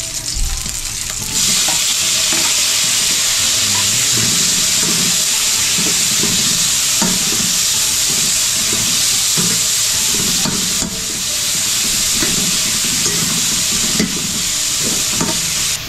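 Tomatoes sizzling in a hot pan as they are stir-fried, a steady loud frying hiss with repeated scraping and stirring strokes throughout, no talking.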